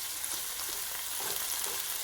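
Tomato paste fries in a hot pan on a stovetop for a Sicilian vegan caponata, a steady close crackling sizzle with faint stirring scrapes and no voices.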